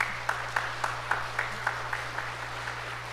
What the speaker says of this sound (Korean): 여러분들이 큰 박수로 격려해 주시기 바랍니다.